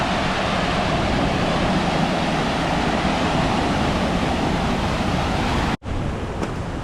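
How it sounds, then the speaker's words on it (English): Steady broadband rush of flowing water, loud and close, continuing for several seconds before a brief cut and a slightly quieter continuation. "There's a little water feature for you."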